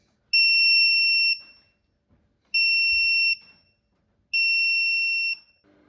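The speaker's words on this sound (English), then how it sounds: "it's definitely been beeping for more than 3 minutes now" An AtemPower 12V 100Ah power hub with a 40A DC-DC charger sounds three long, loud, high-pitched alarm beeps, each lasting about a second, separated by short gaps of quiet.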